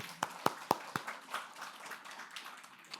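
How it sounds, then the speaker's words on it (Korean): Light, sparse applause from a church congregation during a Sunday worship service, a few distinct claps at first, then thinning into soft scattered clapping in a quiet hall. "박수"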